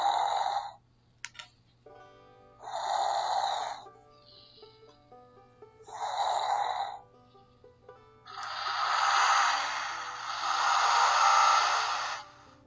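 Slow snoring for a sleepy dump truck comes as three short breathy snores spaced a few seconds apart, then one long drawn-out snore, soft and close over a faint steady hum.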